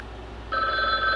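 A telephone bell starts ringing partway through, a steady bright electronic trill that comes in over quiet room tone and continues to the end.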